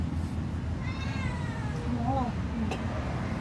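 A cat meows a few times in a rising, wavering call at a household doorstep where fish is being sold. The meows sit against steady background noise, and a person speaks nearby.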